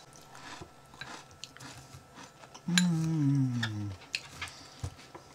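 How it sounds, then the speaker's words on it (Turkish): Crispy fried food is bitten and chewed at a snowy caravan camp by a frozen lake, giving close, sharp crunches scattered through the clip, broken by a short drawn-out vocal exclamation. "Of, çıtır çıtır sesler geliyor."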